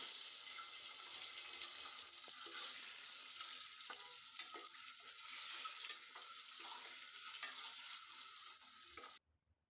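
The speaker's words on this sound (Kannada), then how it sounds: "ಇದನ್ನು ಒಂದು ಫೈವ್ ಮಿನಿಟ್ಸ್ ಎಣ್ಣೆಯಲ್ಲಿ ಫ್ರೈ ಮಾಡ್ಕೊತೀನಿ" Eggs fry in oil, a soft continuous sizzle with faint scraping touches of a spatula, fairly quiet and steady, then cutting off near the end.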